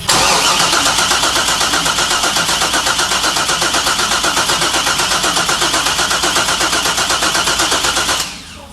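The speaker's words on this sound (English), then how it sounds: "go ahead and crank it for a 10 count" An LS V8 swapped into a Mazda FD RX-7 cranks with a fast, even, loud rhythmic churn for about eight seconds, then the cranking stops abruptly, leaving a quieter running tone.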